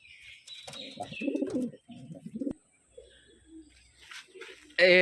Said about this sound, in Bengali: আমাদের এখানকারই মানে ম্যাটাজ পায়রা দেখাচ্ছি এক পেয়ার দেখুন